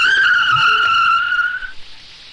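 A car skids in a near accident, one loud, sustained high tire squeal that holds steady for over a second and then trails off as the car comes to a stop.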